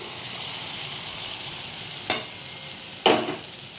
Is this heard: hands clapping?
no